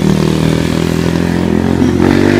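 A motorcycle engine runs steadily at close range, a loud continuous low rumble with a slight rise in pitch near the end.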